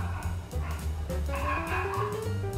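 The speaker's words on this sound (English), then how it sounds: "You can tell by the wildly barking dog." A dog indoors barks and yips in rapid, excited bursts, close and fairly loud, with whiny tonal yelps running through the whole stretch.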